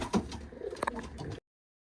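Ornamental flying pigeons, white-headed birds, coo softly in a short close burst, several throaty calls overlapping before the sound cuts off.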